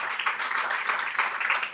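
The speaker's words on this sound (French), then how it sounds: "on va se contenter d'applaudir ces messieurs" Audience at a digital-platform conference applauding the speakers, a short burst of dense clapping that stays steady throughout with no talk.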